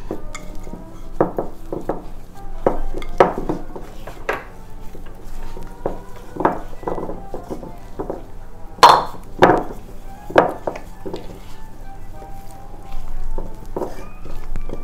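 Spoon scraping and knocking against a mixing bowl while Irish soda bread dough is stirred with raisins and walnuts, giving irregular clinks and thuds at close range with no talking.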